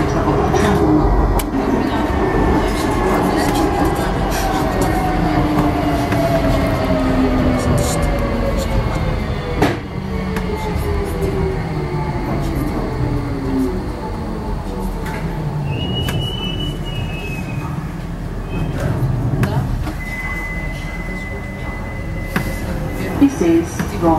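A London DLR light rail train runs between Beckton and Tower Gateway, heard from inside as a loud continuous rumble with electric motor whine rising and falling through acceleration and braking, plus faint chimes.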